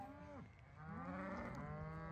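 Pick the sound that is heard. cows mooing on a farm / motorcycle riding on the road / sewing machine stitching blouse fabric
cows mooing on a farm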